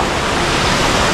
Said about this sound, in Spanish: Mirad qué cascada.